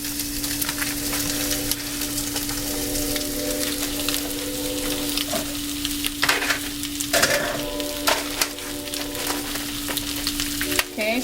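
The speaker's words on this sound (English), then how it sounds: "we're going to cook the Italian sausage and the ground turkey together" Italian sausage and ground turkey fry together in a pan greased with canola cooking oil, a loud, steady sizzle with occasional stirring scrapes running throughout.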